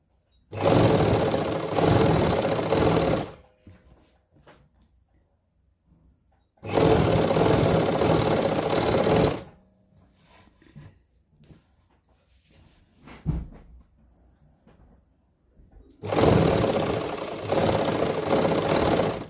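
A sewing machine stitches lace onto the crease of a suit, running in three loud sustained bursts of a few seconds each, separated by quieter pauses with faint handling noises.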